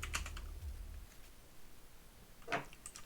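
A computer keyboard is typed on in short, close clicking bursts, one near the start and another after a pause, over faint room noise with no speech.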